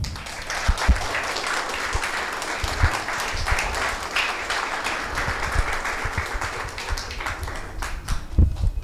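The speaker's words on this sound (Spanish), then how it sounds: "¿Por qué no le damos un aplauso al Señor?" A church congregation applauds steadily for several seconds during a Sunday general service, a dense sustained clapping with a few sharper nearby claps standing out.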